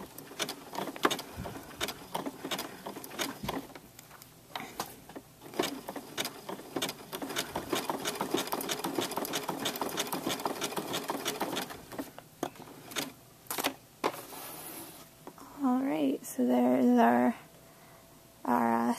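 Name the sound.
sewing machine stitching applique on fabric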